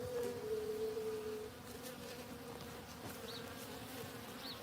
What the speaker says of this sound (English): All right, back to watch the bees go crazy.